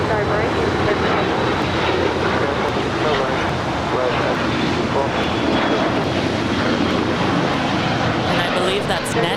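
A Bombardier Challenger 350 private jet, NetJets 758, departs Los Angeles International Airport with a loud, sustained broadband engine roar that holds steady from start to finish, with a faint high whine riding on top.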